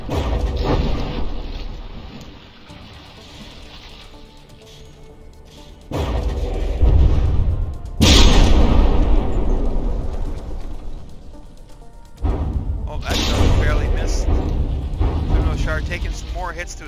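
Battleship taking artillery hits in the naval combat game From the Depths: heavy booming impacts and crashing explosions, loud and close, arriving in several sustained bursts with rumbling gaps between them.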